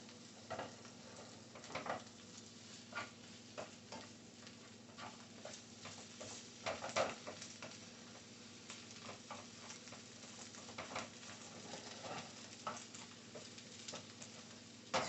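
Eggs sizzle and crackle in a hot pan while being folded for breakfast tortillas, with a steady frying hiss and irregular light scraping and tapping of a utensil throughout.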